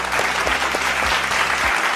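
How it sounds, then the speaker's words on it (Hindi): Audience applause at the launch of a JCB 3DX EcoXPERT backhoe loader, a steady crowd of clapping hands filling the full two seconds, with a few low thumps beneath. "एक बार तालियां हो जाए।"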